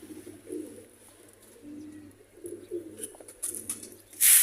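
Sialkoti pigeons coo in soft, repeated low rolling phrases close by, with a brief loud rustle or flutter at the end.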